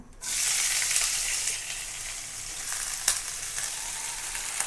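Potatoes and bitter gourd sizzle loudly in hot oil, a steady close frying hiss that starts abruptly and holds throughout, with a few small pops and spatters near the end.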